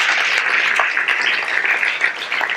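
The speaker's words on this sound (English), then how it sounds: "Even bigger round of applause, come on," A crowd at a live event celebrating people changing their lives claps continuously, a dense, even wash of applause with no pauses.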